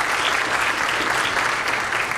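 Audience at a 2019 MS symposium applauding the sponsors: steady, dense clapping from a large room, sustained at even loudness with no voices over it.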